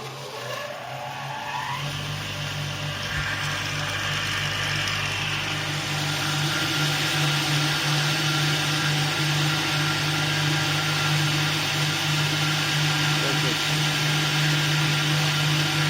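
A 220-volt electric chaff cutter winds up after a click and runs continuously, a loud steady motor whine with a strong low hum and broadband whirr that holds evenly for the whole stretch.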